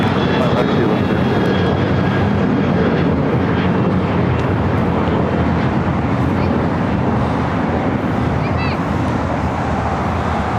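A heavy Airbus A350 landing at Los Angeles International Airport, its broad, steady engine roar filling the whole stretch at a close, loud level with no breaks.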